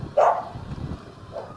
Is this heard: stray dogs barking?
yes